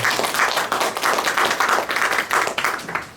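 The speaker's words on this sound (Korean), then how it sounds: "박수 한번 부탁드리겠습니다" Hands clapping from a small audience at a literary symposium at the Gyeongnam Literature Museum, loud and close in uneven pulsing bursts that fade out at the end.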